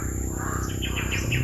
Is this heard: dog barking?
no